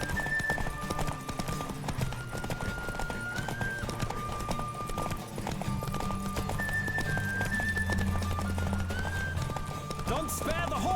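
A horse gallops steadily through a race in The Witcher 3, its hooves clip-clopping in a fast, even rhythm under a continuous layer of game music, with no voices in the clip.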